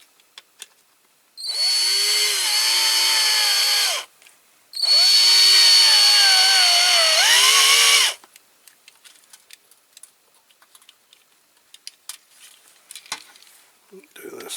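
A power drill bores out wide rivets on a Dinky Toys Ford Consul Cortina model car in two loud bursts of whining drilling that rise and fall in pitch. Afterward come quiet clicks and small handling noises.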